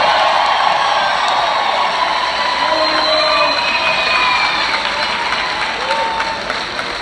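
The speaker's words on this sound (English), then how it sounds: "Come on, let's cheer. The class of 2018." A graduation crowd cheers and applauds for the class of 2018, with loud, sustained clapping, whoops and shouting voices filling the hall and tapering slightly toward the end.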